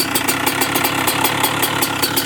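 A 2-stroke dirt bike that sat unused for over fifteen years idles steadily up close, its engine putting out a fast, even, buzzing putter with no talk.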